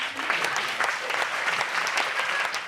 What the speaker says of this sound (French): Donc on l'applaudit